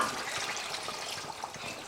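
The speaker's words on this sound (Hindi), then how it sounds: "अब इसमें हम पानी डालेंगे।" Water is poured steadily into a cooking pot for a Painda chicken and potato dish, a continuous close splashing rush with no talk.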